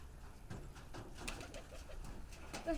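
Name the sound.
pigeons in a loft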